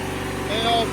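A 1997 MTD Yard Machines riding lawnmower engine runs at full throttle, a steady close drone that swells slightly louder midway, with a faint higher whine layered on top.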